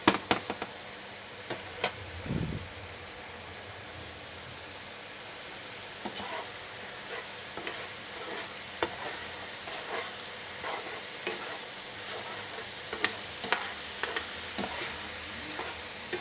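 Baked potatoes in a Ninja XL Pro air oven fry in their own juices with a soft, steady sizzle and faint crackling ticks. A few brief clicks and thumps cut through, all quiet and close.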